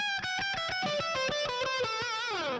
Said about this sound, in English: Here's the tone with the tube drive and the hall reverb.